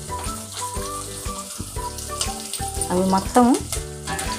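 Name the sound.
onions and green chillies frying in oil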